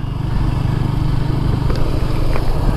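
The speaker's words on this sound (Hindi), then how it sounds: "new bike red colour 310 RR" A red RR 310 sport motorcycle being ridden on a highway toward Chittorgarh: a loud, close, steady engine drone with rumbling low tones and wind, holding an even level throughout.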